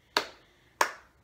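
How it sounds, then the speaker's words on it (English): Two sharp hand claps spaced about half a second apart, close and clear with a brief decay after each, during a Japanese rice-pounding clapping song lesson; no talking. "So, get those hands clapping just like this."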